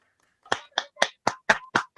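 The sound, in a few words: audience applause welcoming a speaker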